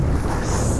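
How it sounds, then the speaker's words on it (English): Strong wind at a UK beach during a major storm roars against the microphone in a dense, continuous rush, loud and close throughout the short stretch. "Why is it so windy here?"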